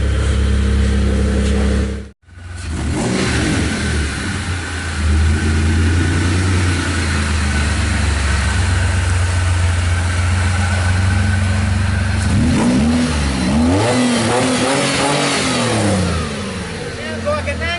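Race car engine warming up, idling steadily and loud and close, then revved hard in rising and falling bursts toward the end, after a short cut near the start.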